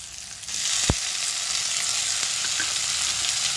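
Chopped onion, tomato and green chili sizzle steadily in a hot pan, a constant bright frying hiss with a few soft scrapes from stirring, close and fairly loud with no talk.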